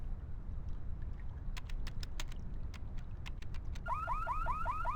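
A car alarm goes off, first a run of sharp repeated chirps, then a fast rising-and-falling warble, loud and close over steady low background rumble.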